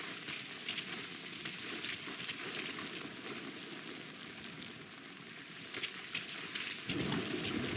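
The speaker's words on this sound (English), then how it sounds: "That rain just won't let up." Steady in-game rain in Metal Gear Solid Ground Zeroes, a dense hiss of falling drops on surfaces that runs the whole time with no talk, swelling slightly heavier near the end.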